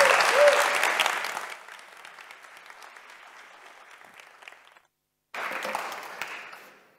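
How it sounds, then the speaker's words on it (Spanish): A conference audience in Tenerife applauds a speaker taking the stage, the clapping loud at first and thinning out, a brief silence, then a second burst of applause that fades. "Un aplauso."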